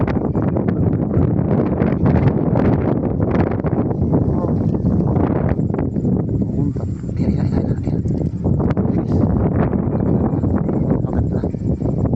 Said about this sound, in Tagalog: medyo mahangin lang guys